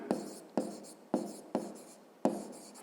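Pen writing numbers by hand on paper during a maths exercise, five short scratchy strokes in irregular rhythm, close and quiet, with no talking.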